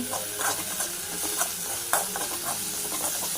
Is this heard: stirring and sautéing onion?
yes